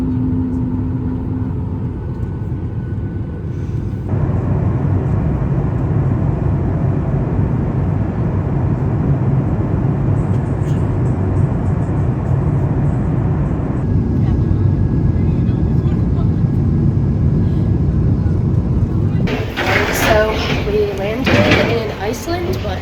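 Inside an airliner cabin getting ready to take off, a steady low engine and ventilation roar fills the space, with its pitch and level shifting partway through, while voices talk over it and clatter and knocks near the end.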